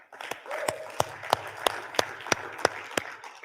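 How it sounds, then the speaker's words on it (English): A church congregation at a Sunday service applauds. Scattered clapping runs under faint murmur, with a few sharp, evenly spaced claps standing out close by and a brief voice near the start. "That deserves a round of applause."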